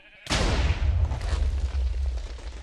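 A single loud TNT blast in Minecraft hits suddenly and then rumbles and crackles as its debris settles over a couple of seconds, with no talk.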